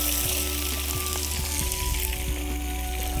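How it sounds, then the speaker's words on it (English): Mixed vegetables sautéing in a pan, with a steady close sizzle and scattered soft pops and stirring knocks and no talk over it. "I'm just going to saute these vegetables."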